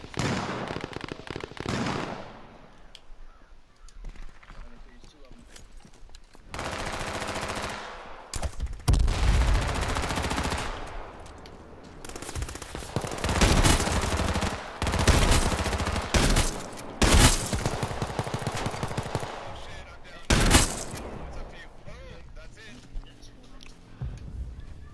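Repeated bursts of video game gunfire, including rapid automatic volleys, crackle at varied distances through a tense firefight near a house, with players talking over the shooting.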